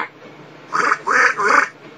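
A voice imitates a duck, giving three loud, nasal quacks in quick succession, close and clear with nothing else behind them.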